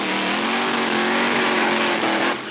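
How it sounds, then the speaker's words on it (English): Top Fuel drag racing cars doing burnouts at the NHRA Summernationals give an intense, sustained, high-pitched engine scream with a steady buzzing drone that cuts off abruptly near the end. "our next pair of cars coming up to do the burnouts"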